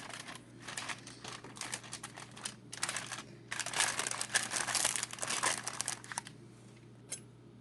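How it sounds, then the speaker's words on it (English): Croissant dough is unrolled from its packaging, giving bursts of dry crinkling and crackling that come close and fairly loud, pause briefly and then build to a busier stretch before fading to a last small crackle. "You then unroll the dough and you will see that there are lines that make the triangle shape."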